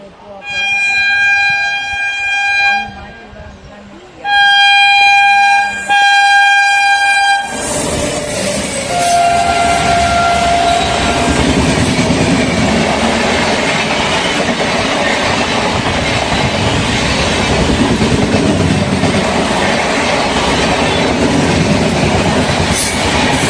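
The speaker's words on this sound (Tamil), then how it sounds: "வந்தே பாரத் கிராஸுக்கு அப்புறம் இந்த பக்கம் ட்ரெயின் கிராஸிங்க." A passenger train crossing gives two long horn blasts, then passes close by with a loud, steady roar and rattling clatter of wheels and coaches.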